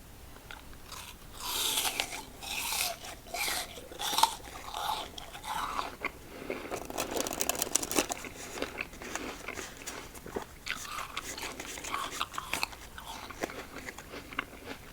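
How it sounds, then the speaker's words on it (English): A crisp, crunchy apple is bitten and chewed close up, with sharp crunches breaking into wet, rhythmic chewing over a quiet background. "Let's go another apple while we shuffle."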